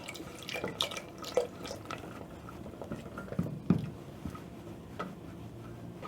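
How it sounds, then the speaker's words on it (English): Wooden spatula stirring thickening uji porridge in a pot as milk is poured in, giving soft wet scrapes, drips and patters at close range, irregular and quiet, with no talking. "I'm going to add in milk as I stir"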